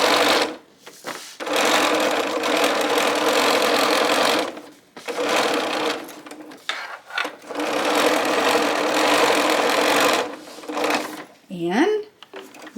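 A sewing machine top-stitches fabric folded over leather about a quarter inch from a drawstring bag seam, whirring loudly in long steady runs with brief pauses between them.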